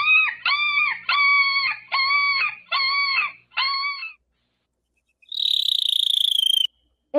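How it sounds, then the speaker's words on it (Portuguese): A dog barks six times in a fast, evenly spaced series of sharp, high yaps, followed after a short pause by a separate, shrill buzzing sound. "esse som que apareceu antes parecia ser ali o som de um cachorro, será?"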